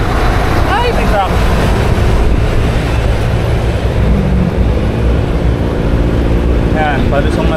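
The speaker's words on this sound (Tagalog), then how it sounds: "Ay, may truck!" A truck rumbles past on a hilly road on the Antipolo loop, a loud continuous low roar heard close up from a moving rider, with wind noise throughout.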